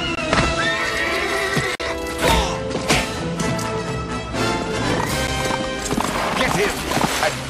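A horse gallops and neighs in a dramatic animated chase, with clip-clopping hooves and whinnies mixed among loud music, crashes and voices.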